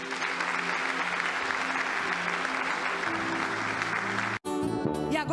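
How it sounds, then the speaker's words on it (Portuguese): Congregation at a church service applauds loudly and steadily for several seconds, dense clapping filling the space, then a brief cut before music with singing starts. "Aplaude o Senhor."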